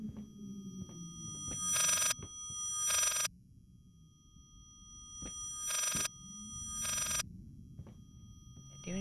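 An old-style telephone rings in the horror game Layers of Fear, sounding in two pairs of sharp electronic bell bursts separated by a gap, over low ambient game noise while a player talks.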